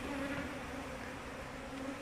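A steady, dense buzzing of honeybees at a beekeeper's hive hums continuously up close, with a constant drone and no pauses.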